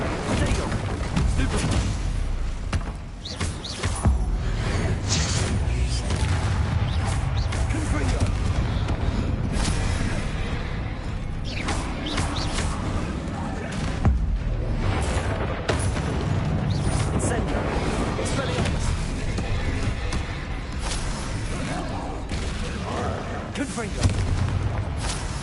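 Spell-casting combat in Hogwarts Legacy, with repeated booming blasts and crackling impacts going off in quick, irregular succession across a busy fight, heard under a player calling out spell names.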